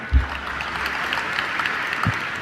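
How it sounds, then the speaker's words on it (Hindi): An audience in Indore claps throughout a spiritual discourse, a sustained, dense wash of applause with a couple of heavier thumps and no speech over it. "देखो कितनी बढ़िया ताली बजा रहे"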